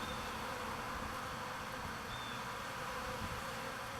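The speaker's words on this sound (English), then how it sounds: "These are the exact same bees that were eating me alive with a suit on right at their entrance yesterday" A dense, steady drone of many honey bees swarming at a hive entrance during a cutout, continuous and fairly close with no voices.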